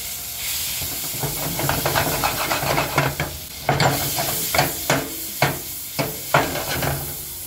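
Butter heating and sizzling in a pan as the base for gravy, a steady frying hiss with a series of soft rhythmic scraping or stirring strokes, close and clear.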